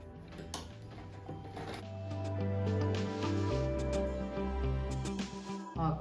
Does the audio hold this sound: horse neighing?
no